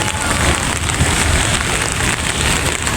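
Heavy rain pours down at an open-air fruit market in Rawalpindi, a loud continuous close hiss and patter of drops on surfaces, with no voices.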